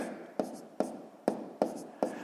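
A pen taps and scratches on paper while numbers are written by hand for a column multiplication, five evenly spaced strokes in quick succession, close and soft against a faint hiss.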